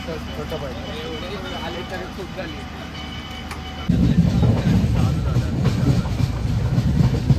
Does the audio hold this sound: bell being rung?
no